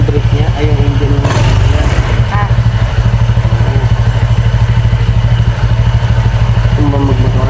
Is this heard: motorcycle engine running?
yes